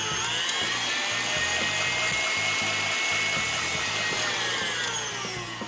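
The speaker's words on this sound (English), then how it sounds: "And now just give it a little whisk to add that yogurt in there." An electric mixer whirs steadily and loudly as yogurt is blended into creamed butter and sugar for a lemon cake batter, with a constant motor drone throughout.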